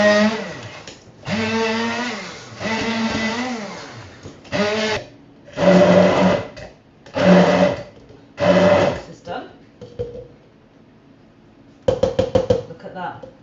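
A blender blitzes mint and coriander chutney ingredients in several short loud bursts, whirring up and stopping, with pauses between and a final brief pulse.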